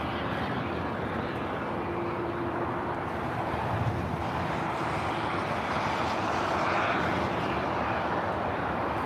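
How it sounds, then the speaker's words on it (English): A Boeing 777 rolls down runway 25 right at LAX, its engines a faint, distant broadband roar mixed with wind noise, steady and rising slightly toward the end. "We got the 777 now rolling down, 25 right."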